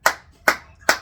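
Three sharp, close hand claps at an even pace about two-fifths of a second apart, each followed by brief quiet, during a casual podcast conversation.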